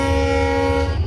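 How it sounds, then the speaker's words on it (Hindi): WDG4 diesel locomotive horn in Train Simulator 2023 during shunting duty, a steady loud multi-tone blast sustained for about a second with deep engine rumble beneath, no talk. "हॉर्न बजाओ"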